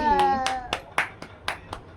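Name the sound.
hand clapping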